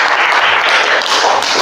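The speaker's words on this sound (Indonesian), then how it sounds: "kasih tepuk tangannya" Dense, steady applause from a group in a classroom teaching session, loud and close, continuous clapping throughout with no voices.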